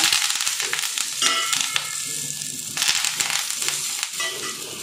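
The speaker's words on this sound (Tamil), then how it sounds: "இப்போ நம்ம எடுத்து வச்சுருக்க கருவேப்பிலையை வந்து அதில் வந்து சேர்த்துக்கிடுங்க" Fresh curry leaves crackle and sizzle as they hit hot oil in a pan while curry leaf powder is being made, a loud, steady, close frying hiss with scattered pops throughout.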